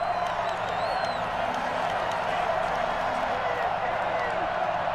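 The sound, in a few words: football stadium crowd cheering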